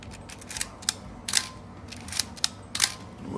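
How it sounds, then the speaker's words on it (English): Shutter of a Contax RTS film SLR with a Zeiss Planar 50mm f/1.4 lens firing several times, crisp close mechanical clicks and snaps spaced unevenly over a soft background hiss, no voices. "The shutter is working fine."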